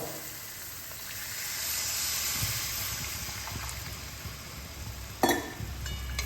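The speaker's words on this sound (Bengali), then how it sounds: "মশলা থেকে তেল ছেড়ে গেছে, এবার দিয়ে দেবো জল।" Water poured into hot masala that has been fried in oil until the oil separates, for a Bengali bata fish curry. It gives a steady, moderate steamy hiss and sizzle, with one short clatter near the end.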